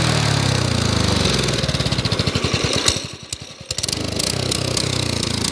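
A 6.5 horsepower Predator 212 small gas engine on a mini bike chugs with a rapid, uneven putter, dipping briefly before picking back up; loud and close with no voices.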